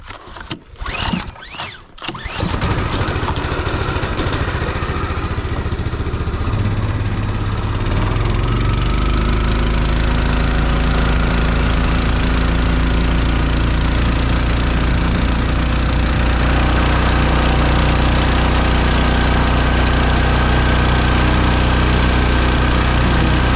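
An old vehicle's engine rumbles as it pulls away. Brief handling knocks come first, then a steady mechanical drone builds and holds, fairly close.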